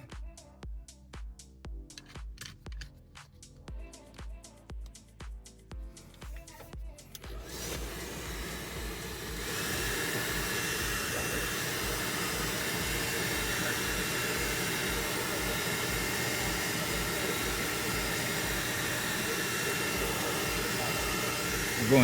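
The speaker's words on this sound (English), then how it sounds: "Go ahead and plug in a hair dryer because it says to use a hair dryer." A hair dryer, plugged into an electric truck, runs on a windshield during a rock chip repair, a steady close whooshing hiss that starts after several seconds of lighter handling noises and continues evenly.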